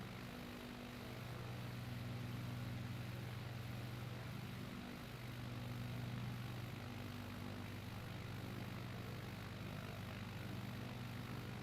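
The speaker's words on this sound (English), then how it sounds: "When we land, when I land this plane" A Cirrus Vision Jet's engine drones in the MSFS 2020 flight simulator, a steady, even whine and rumble that holds throughout at moderate level with no voices.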